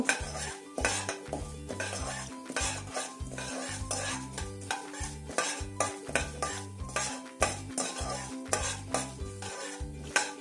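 Semolina (rava) dry-roasts in a pan over a low flame, stirred with a utensil in an even, rhythmic scraping beat that continues throughout, with a steady pitched tone running underneath.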